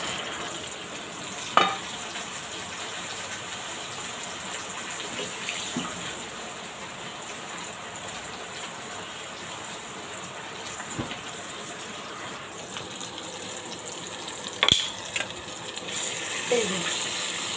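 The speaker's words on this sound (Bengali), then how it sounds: "রসুন, মরিচ, পেঁয়াজ দিয়ে বাগার দিচ্ছি।" Greens fry in a pan after a tempering of garlic, chili and onion, giving a soft, steady sizzle with occasional sharp clacks of a utensil.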